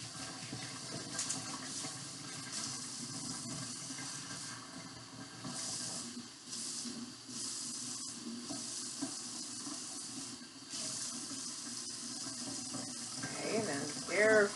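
Cold water running from a kitchen sink tap, a steady hissing flow with a few brief surges and splashes, heard alongside some quiet talking.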